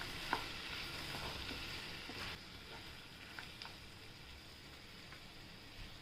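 Peas, spinach and potato sauté with red chili and turmeric in a pan, giving a faint, steady sizzle with a few soft clicks of stirring; no one speaks.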